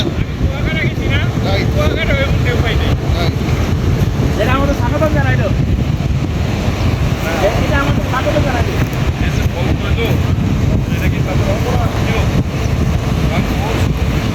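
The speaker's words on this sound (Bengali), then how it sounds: "হচ্ছে একেবারে সমুদ্র সমুদ্রের মতো ঢেউ" Strong wind buffets the microphone beside a river with sea-like waves, with a constant roaring rush and the low rumble of a boat throughout, while people talk in the background.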